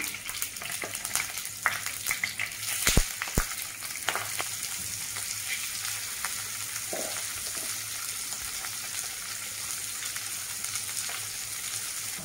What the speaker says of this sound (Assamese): মাছ পিচ ভাজি লওঁ।